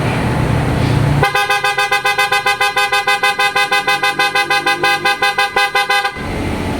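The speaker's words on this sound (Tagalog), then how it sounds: "pakinggan natin ngayon yung tunog ng Auto Style Horn" A Toyota Raize's aftermarket PIAA horn blares in rapid, regular pulses, loud and close, a steady pulsing honk lasting several seconds before it cuts off.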